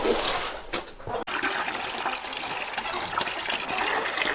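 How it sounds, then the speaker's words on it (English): Water pours and gushes into a bucket of a gravity-fed water system on a small cattle farm, a continuous splashing rush heard up close with a brief dip partway through. "This is my gravity-fed water system. I can just easily put the water in the bucket here."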